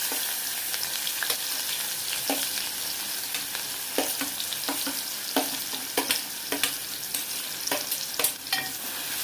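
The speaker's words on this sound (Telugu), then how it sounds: "ఆయిల్ వేడెక్కిందండి ఉల్లిపాయలు వేస్తాను" Onions sizzle in hot oil in a pan for a mushroom curry: a constant close frying hiss with repeated sharp scrapes and taps of a spoon stirring, louder toward the end, no voices.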